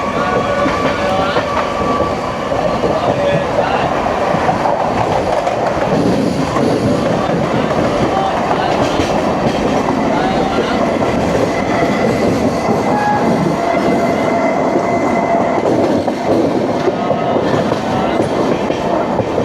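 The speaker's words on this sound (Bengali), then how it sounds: "বন্ধুরা আমি আছি এখন গঙ্গাসাগর এক্সপ্রেসে" Gangasagar Express with LHB coaches rumbling along the rails between Sealdah and Bandel, a steady loud interior roll with faint wheel squeal and clatter throughout, no voices.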